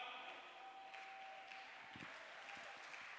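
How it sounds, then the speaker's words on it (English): A church congregation claps along in worship, a sustained, slightly distant spatter of hands with a few louder individual claps and faint voices under it. "Come on, if you are clapping your hands."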